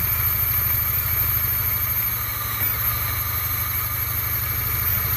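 A Polaris Trail Blazer 250 ATV engine runs steadily close by after being pull-started, its loud, even putter continuing throughout.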